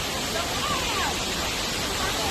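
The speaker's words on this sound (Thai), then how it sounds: "น้ำตกที่ยิ่งใหญ่นะ ไหลกระทบลงสู่ด้านล่างนะครับ" A large waterfall at Phra Chinthan Falls in Thailand pours down onto rocks below, a steady broadband roar that fills the whole moment without pause.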